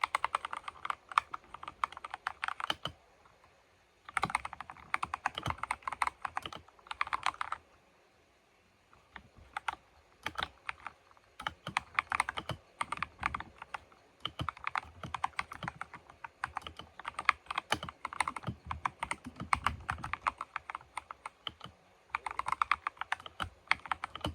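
Close-up typing on a computer keyboard, bursts of rapid clacky keystrokes separated by short pauses, with no talking.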